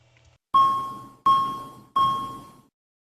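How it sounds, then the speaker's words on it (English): Aircraft master warning system sounding its triple chime: three identical bright electronic tones, evenly spaced and each fading out, clear and alone. "Why are the red attention getters and triple chime operating in this example?"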